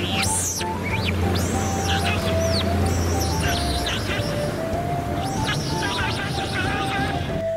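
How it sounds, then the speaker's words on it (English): Giant river otters of South America call with repeated high, squeaky chirps and twittering whistles over a low background rumble, close and fairly clear across several seconds. "the giant river otter of South America is roughly the same"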